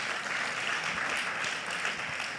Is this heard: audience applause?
yes